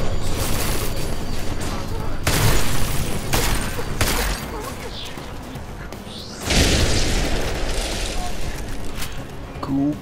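Heavy booming blasts and rapid gunfire-like bursts rumble through the scene, loud and continuous, with voices faintly mixed underneath.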